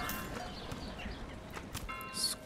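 Horse hooves clip-clop faintly in the medieval city-building game Manor Lords, a soft, steady patter of steps over quiet ambient game sound, with no talking.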